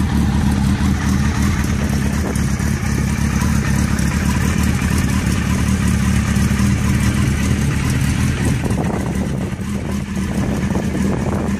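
A chopper-style motorcycle with a bare, stripped-down build idles loudly and steadily up close, its exhaust giving a deep, continuous throbbing rumble with no revving and no talk.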